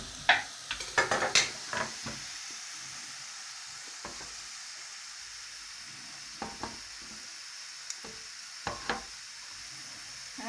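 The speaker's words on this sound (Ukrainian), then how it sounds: "Ложу цибульку. Вона трошечки підм'якне" Onion frying in melted butter in a pan, a soft steady sizzle underneath occasional sharp clicks and scrapes of stirring, clustered near the start and scattered later.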